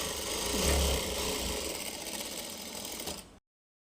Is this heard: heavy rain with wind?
no